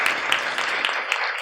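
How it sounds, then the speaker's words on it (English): Brief burst of audience applause at a neighborhood association meeting: a dense, steady patter of many hands clapping, fairly close, lasting little more than a second. "you can give them a round of applause, please"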